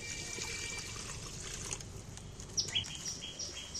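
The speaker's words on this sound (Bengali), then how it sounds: "কড়ার মধ্যে আমি বেশ একটু জল দিয়ে দিচ্ছি।" Water poured into a kadai on a stovetop before young jackfruit is added: a soft, steady pouring trickle heard faintly, with birds chirping in the background.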